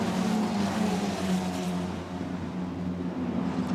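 Formula Renault Eurocup race cars roar past at Spa-Francorchamps, a continuous loud engine drone that dips briefly before the next car's engine note rises again.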